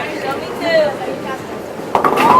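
A bowling championship crowd reacts to an ugly split with a drawn-out groan and murmur. The sound is moderately loud and mixed with voices, and a sharper burst of crowd noise comes toward the end.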